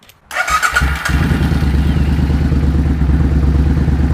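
Suzuki VS800 Intruder motorcycle engine idling during carburetor synchronization, a close, loud, steady low throb with even rhythmic pulses after a brief throttle blip at the start.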